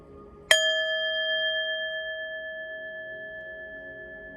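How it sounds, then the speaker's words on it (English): A single bell struck once, a sharp metallic strike followed by a clear ringing tone with bright overtones that decays slowly over several seconds, heard alone in a quiet room. "We're gonna ring the bell, clear the energy"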